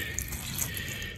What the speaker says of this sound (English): So I'm gonna put a whole cup of water in there.